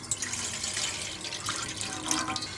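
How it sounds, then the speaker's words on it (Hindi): Water is poured into a bowl for cooking, two cups' worth, making a steady splashing, running pour that lasts throughout with bright hiss, close and fairly quiet, with no talking. "2 कप पानी ऐड करेंगे"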